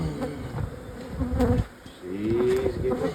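Honeybees drone continuously from a hive exposed behind a house wall, a dense close-up hum with occasional louder passes as individual bees fly near.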